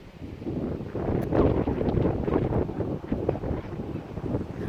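Strong wind blowing at a horse stable in the south, buffeting the microphone with a loud, continuous low rumble and roar that swells and eases throughout.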